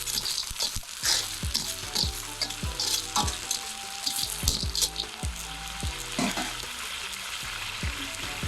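Basil frying in a pan while being stirred, a constant loud sizzle with repeated scraping strokes of a utensil against the pan in an uneven rhythm, close.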